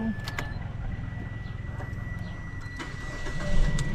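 A car engine cranks and catches, then settles into a steady low idle, close by and fairly loud, with faint voices in the background.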